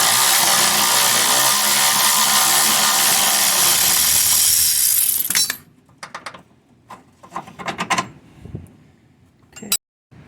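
A loud power tool loosening a bolt on a Jeep XJ Cherokee whirs continuously for about five seconds, then cuts off, followed by scattered clanks and metallic clicks.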